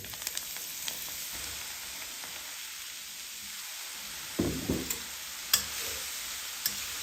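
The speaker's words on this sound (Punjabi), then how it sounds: "ਤੇਲ ਗਰਮ ਹੋ ਗਿਆ ਹੁਣ ਇਸ ਵਿੱਚ ਆਪਾਂ ਹਾਲੋ ਪਾ ਦੇਵਾਂਗੇ" Garden cress seeds (halo) sizzling and frying in hot mustard oil, a steady close hiss with a few louder crackling bursts as the seeds hit and are stirred.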